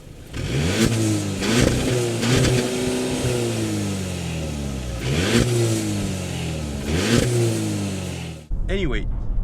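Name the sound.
1.8 TSI car engine accelerating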